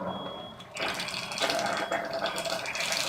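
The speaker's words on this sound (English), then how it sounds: "So I'm going to do my diverter on my faucet so that the water flows into the machine." Tap water runs from a faucet diverter into an Enagic SD501 water ionizer machine. A steady broadband rush sets in partway through and holds on, close and fairly loud, with no talking.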